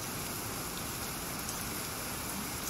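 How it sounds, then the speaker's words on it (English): Steady, even rain in The Division 2 hisses without a break, a dense wash of falling water with no voices or other sounds. "In the soaking rain."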